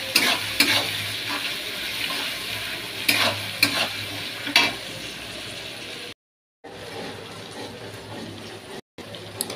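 Meat cooking in a pan with stone-ground spices, a steady frying hiss with repeated scraping stirs and occasional clatters, interrupted by two short silent gaps.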